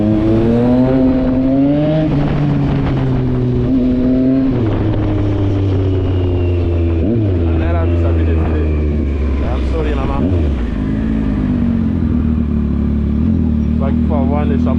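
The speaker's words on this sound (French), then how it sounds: "Il faut avoir un échappement de ouf, hein. On doit vous sentir arriver." A motorcycle with a loud exhaust rides through city streets in Douala, its engine droning and rising and falling through gear changes close by, with traffic around and someone talking over it throughout.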